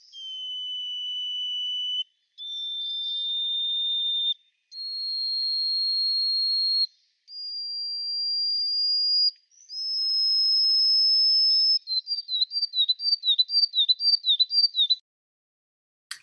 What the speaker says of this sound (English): So Horonis bruniscens sounds like this.